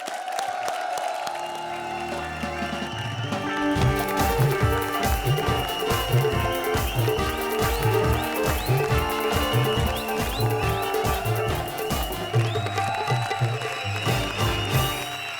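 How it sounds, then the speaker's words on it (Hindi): Studio audience at a Hindi television comedy show bursts into sustained applause and cheering, loud and steady for the whole stretch with music playing underneath. "जोरदार तालियां साधना और रागिनी के लिए।"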